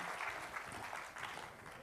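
Faint, steady applause from a crowd, a soft continuous patter of many hands clapping at a distance.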